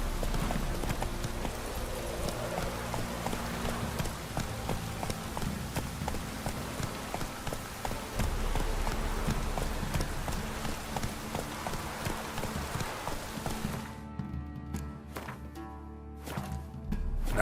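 Roach the horse gallops in The Witcher 3, steady rapid hoofbeats clip-clopping close by across the clip, with light ambient game sound underneath and a short pause near the end.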